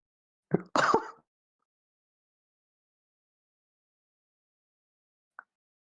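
A brief, forceful nose blow in two quick honking bursts, followed by long silence and one faint click near the end.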